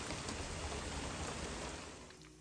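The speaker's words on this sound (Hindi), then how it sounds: "अब क्या टिका के बारिश हुई है" Heavy rain pours steadily in one dense, continuous wash of noise that eases a little toward the end, with no voices over it.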